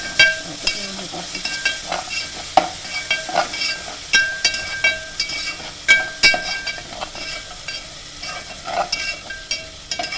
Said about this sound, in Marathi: आलं लसूण पेस्ट टाकते. आणि मिक्स करून घेऊया